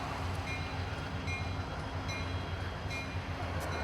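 A Norfolk Southern mainline train rolls past a bar's front porch in Austell, Georgia, a steady rumbling roar of railcars with faint rhythmic clatter, loud and continuous with no voices.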